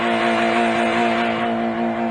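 A Honda car engine runs steadily during an engine endurance test, a loud, even drone with a constant pitch and no revving changes.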